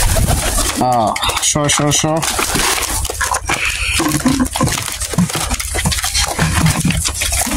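Local golla pigeons gathering to feed, with repeated close, throaty cooing and some fluttering and clatter. A person talks over the birds.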